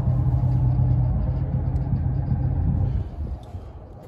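A Detroit Diesel 6V92TI turbocharged two-stroke V6 marine engine in a Tollycraft 48 boat idling after a freezing winter cold start, a steady close deep rumbling drone with an even low throb, easing slightly toward the end.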